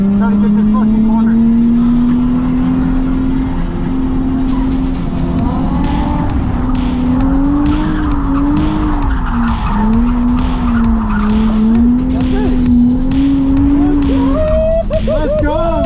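Z car drifting around a corner with a loud, sustained engine roar and wavering tire squeal, heard close up throughout.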